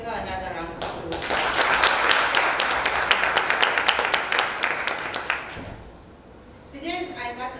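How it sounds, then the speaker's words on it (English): An audience at a G20 symposium in Durban applauds, a dense, fairly close wash of clapping lasting around five seconds that fades, followed by a voice speaking. "Please give her another round of applause."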